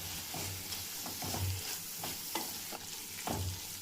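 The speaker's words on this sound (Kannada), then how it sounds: "ಈಗ ವಾಂಗಿಬಾತ್ ಪೌಡರ್ ಹಾಕಿ ಮಿಕ್ಸ್ ಮಾಡ್ತಾಯಿದ್ದೀನಿ." A spoon scrapes and stirs rice as vangibath powder is mixed in a pan, giving repeated scraping strokes over a soft, steady sizzle.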